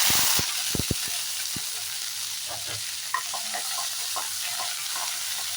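Curry leaves hitting hot oil in a kadai during tempering for a moong dal and drumstick curry: a loud burst of hissing at first, then a steady crackling sizzle with small pops and a faint utensil clink.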